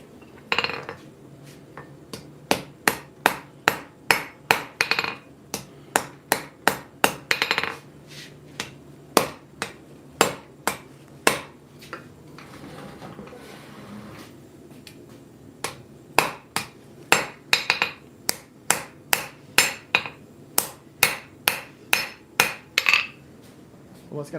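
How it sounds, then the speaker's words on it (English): A hammer forges bevels into a knife blade in a workshop: a long series of sharp metallic blows in quick, steady bursts, with a short pause midway before the strikes resume. "I will be forging in the bevels just a little bit on that thing."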